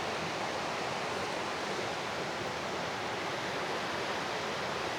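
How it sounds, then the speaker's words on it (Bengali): A river near a bamboo resort in the Darjeeling hills rushes steadily, a dense even wash of flowing water filling the space, moderately loud and uninterrupted, with no voices. "চারিপাশে নদীর আওয়াজ শুনে মনটা পুরো মুগ্ধ হয়ে যাচ্ছে"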